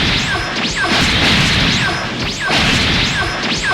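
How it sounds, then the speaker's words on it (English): Fight sounds from Dragon Ball Xenoverse 2 with a teleportation effect: dense crashing impacts and whooshing swishes repeat in loud, rapid bursts, with sharp zipping sweeps roughly every second and a half. "This time around, when we reappear from vanishing, a teleportation sound effect plays."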